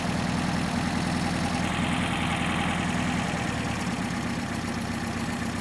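A Porsche 356 engine with Solex 40P11 carburetors idling around 950 rpm during a tune-up, a steady even low rumble close up that dips slightly in pitch near the end as the adjustment takes hold.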